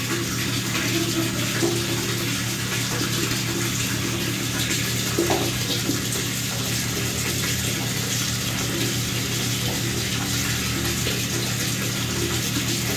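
A steady, loud rush of water runs throughout as a Moto smartphone is held submerged under a running stream, with no voices.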